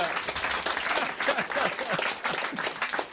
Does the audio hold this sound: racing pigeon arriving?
no